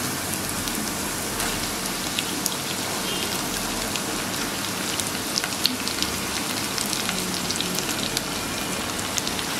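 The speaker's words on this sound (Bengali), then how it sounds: "পেঁয়াজটাকে এবার ভেজে নেব।" Onion sizzles in hot oil with garlic and chili for a Bengali dried hilsa mash, a dense, even crackle of frying with fine popping spatters throughout, steady and close.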